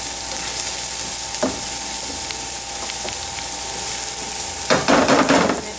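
Onion fries in a pan with garlic, a continuous close sizzle broken by a few scrapes and a burst of louder stirring near the end.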